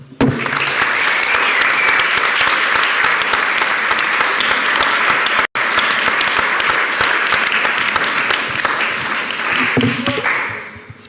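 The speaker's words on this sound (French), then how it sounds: "Et c'est d'abord à vous que je veux faire un grand merci et qui méritait des applaudissements." Sustained audience applause for journalism master's students at a 2013 journalism competition event, loud and dense for about ten seconds with a brief break midway, then fading at the end.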